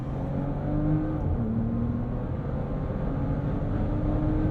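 A Bentley Bentayga Speed W12 engine revs and accelerates steadily, a deep continuous roar with shifting tones throughout.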